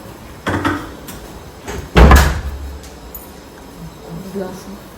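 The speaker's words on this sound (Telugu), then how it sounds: "ఆ డోర్ ఎందుకో కొట్టుకుంటుంది" An indoor door knocks and bangs shut during an Ugadi festival gathering, with two sharp thuds, the second loudest, under nearby conversation.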